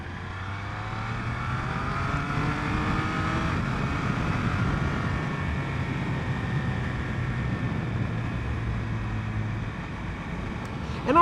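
A 2021 Triumph Speed Triple 1200 RS motorcycle in sport mode on a test ride, its engine droning steadily and loud for the whole stretch with harmonic tones that shift slightly with throttle, over wind noise, no talking.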